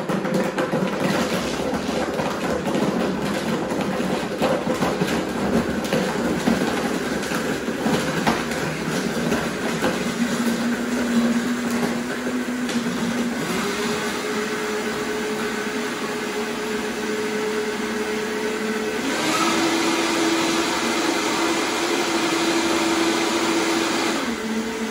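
A Vitamix blender whirs through frozen strawberry margaritas, starting low and stepping up in speed, a loud continuous motor roar with rising pitch steps and the grinding churn of ice.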